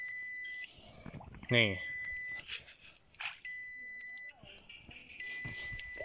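Portable Lucky fish finder sonar signalling fish below the water, giving steady high electronic tones with changing pitch, heard outdoors under someone speaking Thai, with some handling noise.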